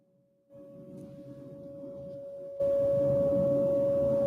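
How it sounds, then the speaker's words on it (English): A steady, sustained tornado siren tone rises into the quiet background and grows louder partway through, droning on without a break. "Why are the tornado sirens going off?"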